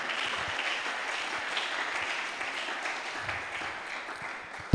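A church congregation applauds the Lord in a steady, dense wash of clapping that holds for several seconds without a break, loud and even throughout, with no talking over it.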